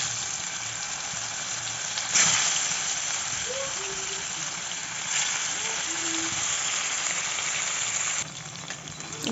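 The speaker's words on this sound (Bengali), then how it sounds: "এবার মাছগুলো একে একে ভেজে নেব।" Fish frying in mustard oil in a pan on a gas stove, a loud, close, continuous crackling sizzle that swells as pieces are added, with faint voices underneath.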